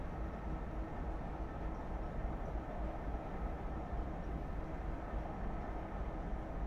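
An NS 1700 electric locomotive hauling ICR coaches on the Zwolle–Roosendaal line in Train Simulator 2019, heard as a steady, continuous low rumble of rolling stock on rails, fairly even throughout with no voices.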